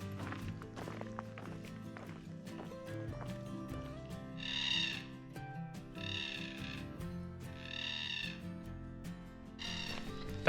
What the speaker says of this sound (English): That sound is Carnaby's black cockatoo, native to Western Australia.